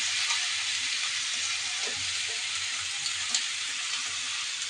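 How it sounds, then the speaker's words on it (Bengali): Chopped onion and green chili fry in hot oil, a steady, loud, close crackling sizzle that carries on without a break and with no voices. "ভাজির জন্য পেঁয়াজ কাঁচামরিচ তেলে ভেজে নিচ্ছি।"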